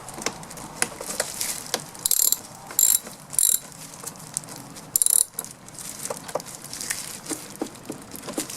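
Ratchet clicking while disconnecting a car battery during timing chain work on a Vauxhall/Opel A14XER engine, with short quick bursts of metallic ratcheting between quieter handling noises.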